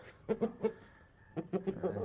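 An Aseel rooster gives soft, close clucks in two short clusters of three or four notes each, separated by a quiet pause.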